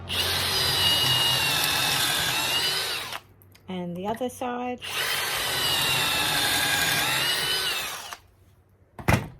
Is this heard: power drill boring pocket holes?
yes